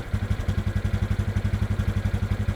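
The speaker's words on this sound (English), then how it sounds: "the factory exhaust on the Cub is very quiet." A Honda Super Cub idles on its factory exhaust, a steady, even putter of quick low pulses at close range with no talk over it.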